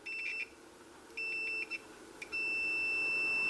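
A multimeter's continuity tester emits three high-pitched electronic beeps: two short ones, then a longer sustained tone, close and clear.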